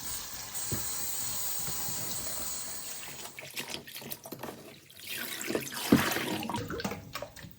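Tap water runs over endive leaves being washed at a sink, a steady broadband rush for the first few seconds that breaks into irregular splashes and trickles as the leaves are handled, fairly close.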